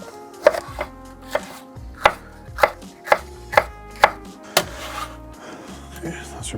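A knife chops a red pepper on a board in a run of about ten sharp, evenly spaced thuds, close and distinct, with quiet gaps between strokes.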